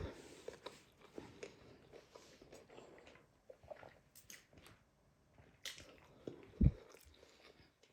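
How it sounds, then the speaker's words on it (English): Someone bites into and chews a hamburger made on a George Foreman grill, giving soft, moist, squishy chewing sounds close to the mic in an otherwise quiet room, with one sharper bite or crunch near the end. "get one more bite"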